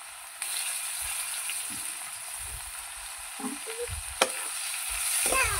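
Ginger, garlic and onion frying in a pan after fish has been fried, a constant hissing sizzle with intermittent scraping stirs and a sharp knock near the end, nobody speaking.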